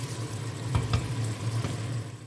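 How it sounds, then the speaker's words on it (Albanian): Tomatoes frying together with onion and carrot in a pan, a steady close sizzle with a few sharper stirring clatters partway through. "Ndërkohë që skuqur qepa bashkë me karotën, hedhim dhe domatet."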